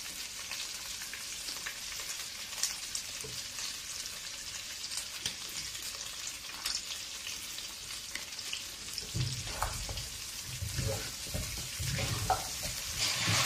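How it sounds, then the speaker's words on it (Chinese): Chicken pieces stir-fried in a wok with braising sauce, giving a steady, moderate sizzle broken by scraping stirs, turning busier and heavier with tossing toward the end. "炒至这鸡块上都沾满一层酱料"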